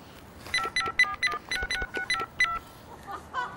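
A mobile phone is dialed to call the police, giving a quick run of short, faint electronic keypad beeps in an uneven rhythm followed by a couple of softer tones.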